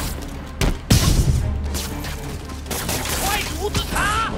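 Bursts of gunfire from a Spider-Man video game pop out in brief volleys over game ambience, while a voice speaks in the middle of the shooting.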